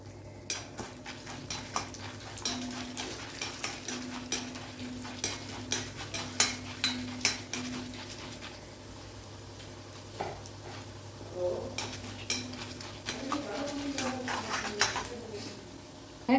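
Chana dal and urad dal frying in hot oil, a soft steady sizzle under intermittent close spoon clicks and stirring taps against the pan, with a low background hum throughout.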